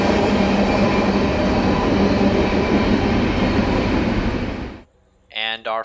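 A CSX Q178 nightly intermodal container train passes at night in a city, a dense roaring rumble of wheels and cars that cuts off abruptly near the end, followed by a few short bursts of nearby talk.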